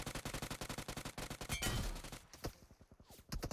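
Automatic gunfire in BGMI (Battlegrounds Mobile India) rattles off as an evenly spaced stream of loud, close shots, breaks into a heavier blast and a quieter stretch, then resumes in rapid rounds, with no talking.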